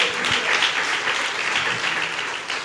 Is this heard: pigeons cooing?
no